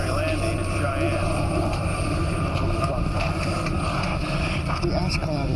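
A passenger airplane flies in a disaster movie scene, its loud, steady engine drone filling the cabin throughout while a voice speaks over it.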